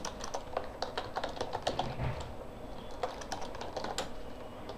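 Quick, steady typing on a computer keyboard while entering details for a web application assignment; soft, close key clicks keep a busy, uneven rhythm.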